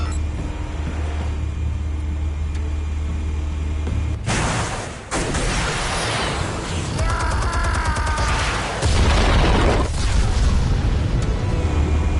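Explosive detonations in a Batman Telltale game: a sudden loud burst after a steady low rumble, followed by several more crashing, crackling blasts and debris noise.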